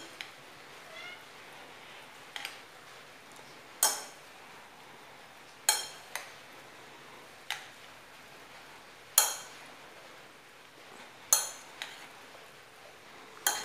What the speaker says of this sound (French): Donc maintenant, je vais encore mélanger.